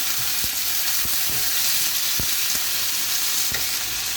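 Sliced bitter gourd frying in hot oil gives a steady, dense, close sizzle that never lets up, broken now and then by faint taps of a stirring spoon.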